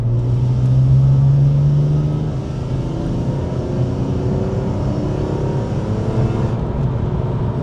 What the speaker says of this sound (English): revving the hell out of this engine